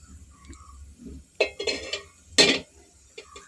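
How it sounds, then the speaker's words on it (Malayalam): A couple of metallic clanks and scrapes as a frying pan is set down on a gas stove, with a quiet background hum. "ഓക്കെ, നമ്മുടെ ചട്ടിയൊന്ന് അങ്ങോട്ട് വെച്ച് കൊടുക്കാം."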